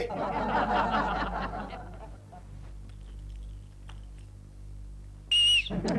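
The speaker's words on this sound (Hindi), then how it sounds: "सीटी कौन बजा रहा है?" A loud, shrill whistle blasts briefly near the end of an office scene in a Hindi sitcom, following chatter and laughter and a stretch of quieter room tone.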